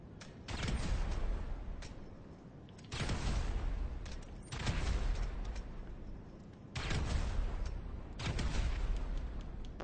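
Grenades thrown at an object at the airport in GTA V go off as repeated deep explosive booms, four or five heavy blasts spaced a couple of seconds apart, each with a rumbling tail, with no talk over them.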